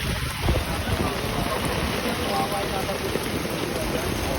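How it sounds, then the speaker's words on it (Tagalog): Gusty typhoon rain during Typhoon Carina beside the NLEX at the Paso de Blas exit, a constant hiss of rain and wind buffeting the microphone, with traffic rumbling underneath. "So, pabugso-bugso yung ulan."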